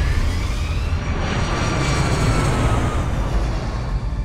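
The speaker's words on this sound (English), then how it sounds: "Cactus 1549, runway 4, clear for takeoff." An airliner's jet engines roar steadily during takeoff, a loud, continuous broadband rush with a faint high whine running above it, no voices.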